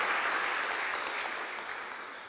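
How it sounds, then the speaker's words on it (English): Applause from an audience welcoming an organist to a symposium room, a brief steady patter of clapping that slowly fades. "let's applaud for her and welcome her to the room. Catalina."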